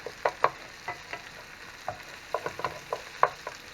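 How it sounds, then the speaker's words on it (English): Onions and bacon cooking together in a pan while the onions caramelize, a low steady sizzle broken by scattered crackles and sharp pops, close and fairly quiet with no voices. "Put them onions right down in there. and let these caramelize a little bit"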